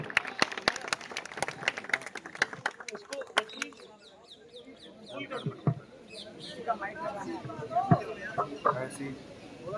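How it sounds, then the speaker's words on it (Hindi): Scattered clapping from a gathering supporting hunger strikers, a burst of separate, fairly close claps that thins out after a few seconds into quieter background with people talking. "सोनम जी के लिए जोरदार तालियां हो जाए एक बार"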